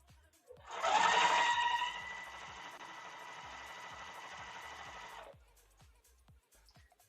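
A Juki sewing machine stitching quilt pieces with its regular presser foot, whirring into a loud start, then settling into a steady, even hum for about four seconds before stopping, with faint ticks around it.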